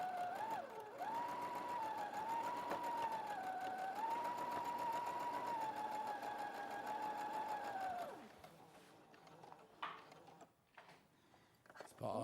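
A sewing machine stitches in a long steady whirring run, briefly slowing and resuming, then stops, followed by a few quiet handling clicks and rustles.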